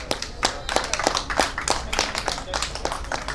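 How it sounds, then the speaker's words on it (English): Scattered clapping from a small crowd at a Libertarian Party candidate mixer in Hays, honoring Scott Horton; individual claps stand out sharply and near, with a faint voice underneath. "give him a round of applause."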